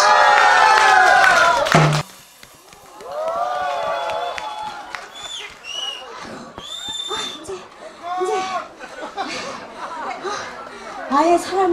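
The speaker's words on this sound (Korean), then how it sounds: "박수 함성." A crowd at an overnight New Year's Day pumba street-theatre show in 2018 bursts into loud cheering and shouting for about two seconds, then a single voice talks over faint crowd murmur.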